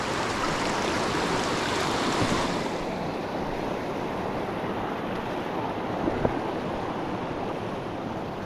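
River rapids rush loudly and continuously in a broad, steady roar of churning water heard close by from the rocky bank of a fishing spot.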